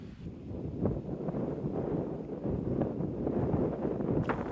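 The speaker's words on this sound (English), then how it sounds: "The wind is now going from left to right and it is coming into us a little." Gusty wind blows across a golf course, a steady rumbling buffet against the microphone with surging, fluctuating intensity throughout.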